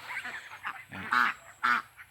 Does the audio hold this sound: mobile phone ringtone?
no